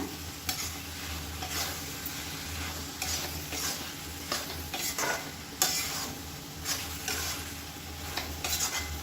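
Steady sizzling of egg omelette frying in a pan, with a utensil stirring and scraping through it in irregular strokes and soft clinks, close by.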